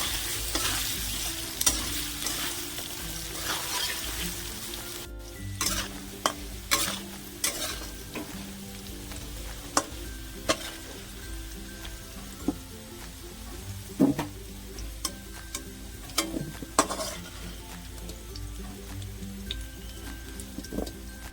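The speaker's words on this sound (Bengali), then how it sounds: "তার জন্য লবণ আর হলুদ দিয়ে আলুগুলোকে একটু হালকা ভেজে তুলে দিচ্ছি।" Potatoes with salt and turmeric fry lightly in a pan, a steady soft sizzle broken by frequent sharp scrapes and clacks of a spatula stirring, close and without speech.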